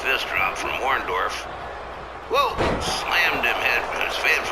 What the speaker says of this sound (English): Slammed him head first into the canvas.